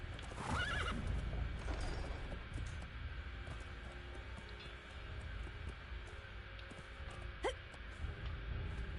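A horse in the survival video game Conan gives a brief whinny near the start, then hoof clip-clops and game ambience continue beneath it, with a short sharp sound later on.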